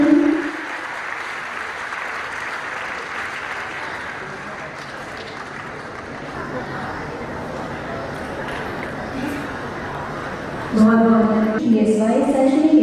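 Audience applauding at an awards ceremony for a national exam where a chief minister presents medals, steady broad clapping from a large crowd throughout, swelling louder near the end.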